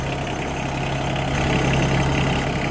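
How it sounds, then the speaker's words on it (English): The small diesel engine of a 1.7-tonne mini excavator idles steadily at low revs, a continuous throbbing rumble close by that rises slightly in loudness partway through. "let all that oil run through the engine as well, just on a very soft idle"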